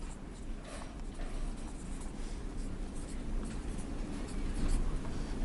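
Pen or pencil scratching across paper by hand, a steady continuous scribbling texture with faint strokes and a slight swell near the end, close by with no talk.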